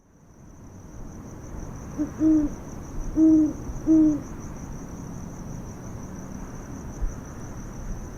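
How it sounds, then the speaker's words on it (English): A low, deep great horned owl hoot sounds three times in a slow series, each note short and soft, over steady insect trilling in the background. "Let's do the same with a great horned owl"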